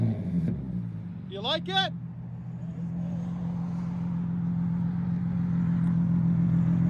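A 2012 Infiniti G37 with a 3.7L V6 and straight-pipe dual exhaust holds a loud, steady low engine drone throughout, with a person briefly speaking over it near the start.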